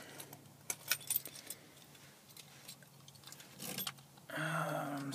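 Keys jangle a few times in quiet, then a 6.2 engine fires on a cold start near the end, its steady idle rumble taking over for the last second.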